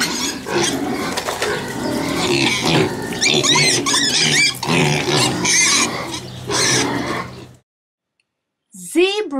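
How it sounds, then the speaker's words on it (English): A pig grunts and snorts in a rough, loud stream of oinks lasting several seconds, followed by a short silence and then a sharp, high squeal. "Pigs."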